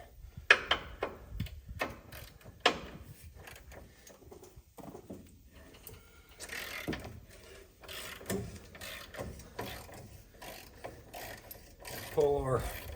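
A ratchet with a 21mm socket loosens suspension bolts on a 1992 K2500 farm truck, giving close, uneven clicking and clanking mechanical strokes with scattered metallic knocks and no speech.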